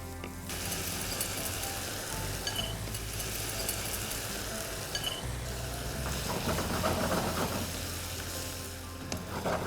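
Warmed tofu sizzling steadily in a hot pan as an orange soy marinade goes in, a dense continuous frying hiss with occasional clinks and scrapes, close and loud throughout, with no talk.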